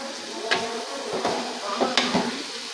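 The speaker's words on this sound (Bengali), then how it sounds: "পেঁয়াজ কাটা, রসুন কাটা সব আমি একসাথে দিয়ে তেলে ভাজা করতেছি" Chicken gizzards frying in oil with onion, garlic, cumin, turmeric and chili powder, a soft steady sizzle broken by a few scraping stirs of the spatula, heard close up.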